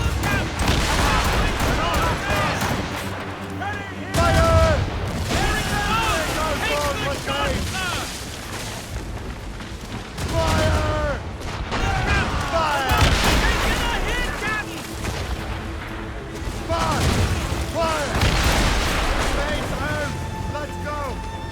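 Ship cannons firing in a naval battle in Assassin's Creed Rogue, repeated booming volleys over a dense bed of game music and effects, with people shouting orders throughout.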